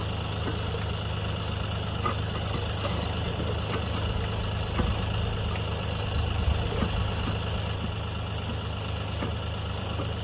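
The diesel engine of a Kioti backhoe idles on a farm, giving a steady, even low rumble that runs unbroken throughout with faint clanks over it.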